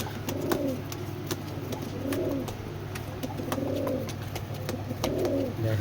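Teddy high-flyer pigeons cooing in a loft, four soft rolling coos repeating at an even pace over a steady low hum, with faint clicks and no talking.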